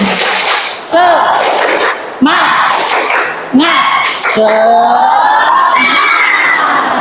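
Classroom of schoolchildren standing for an ice-breaking "tepuk semangat" clapping chant, loud shouted voices in rhythmic bursts with claps, a few short pauses between phrases, close and energetic.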